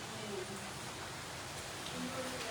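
Steady rain falls at night on a farm-field area in a Gujarati village during a power cut, a dense, even hiss of drops with no pauses, fairly close and constant.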